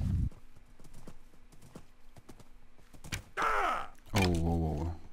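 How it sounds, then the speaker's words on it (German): Horse hooves clip-clop in a steady rhythm during riding in the game Minecraft, followed by loud horse snorts and a whinny near the end. "So, dann lassen Sie uns mal nach Hause reiten."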